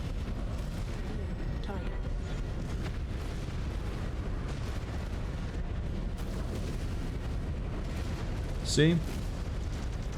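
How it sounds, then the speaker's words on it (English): Missile explosions from MechWarrior 5 Clans rumble in a dense, continuous barrage of distant booms and gunfire, with a brief sharper burst near the end; a voice speaks briefly over the battle. "Giant AoE and one of my missiles hit the bridge."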